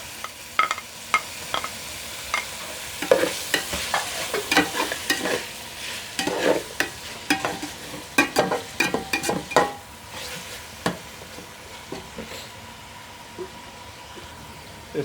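Chicken macaroni with tomatoes is stirred and fried in a pan. A soft sizzle runs underneath while a spoon scrapes and clinks against the pan in irregular strokes, close by and with no voices.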